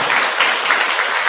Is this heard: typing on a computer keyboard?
no